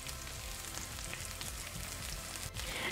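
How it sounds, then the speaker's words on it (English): Roughly diced onion and whole peeled garlic cloves frying in hot avocado oil, a dense, even sizzle heard up close for a few seconds with no voices. "Once the oil is hot, add the roughly diced onion and 2 whole peeled garlic cloves and stir as needed."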